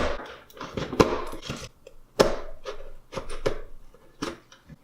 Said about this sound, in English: I'll be using this small knife to cut through the tape.